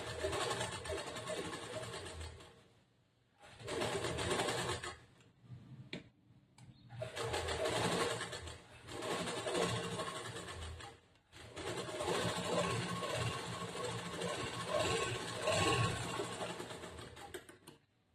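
Sewing machine stitching along a blouse neckline in several loud, close bursts of rapid mechanical whirring, separated by short pauses.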